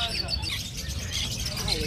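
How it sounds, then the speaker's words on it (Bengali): Small pineapple conure parrots chirp and squawk in quick, overlapping bursts, fairly close, at a bird market in Garia, Kolkata, with voices talking in the background. "দেখতে পাচ্ছেন পাখির কত অ্যাক্টিভ"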